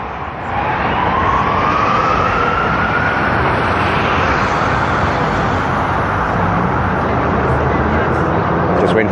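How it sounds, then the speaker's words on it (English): A fire ambulance siren wails faintly as it passes along a busy Brooklyn street, mostly buried under a loud, continuous roar of traffic and road noise. "That's the second fire ambulance that I've seen go by."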